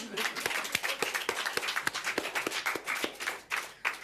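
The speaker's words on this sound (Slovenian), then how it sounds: "En aplavz, prosim." Audience at a book festival author breakfast gives a brief round of applause, a scattering of sharp individual claps in a loose rhythm filling the room, close and moderately loud.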